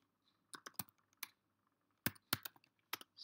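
Computer keyboard typing a terminal command on a Mac: two short bursts of clicky keystrokes, a few spaced taps and then a quicker cluster, close and fairly quiet with silence in between.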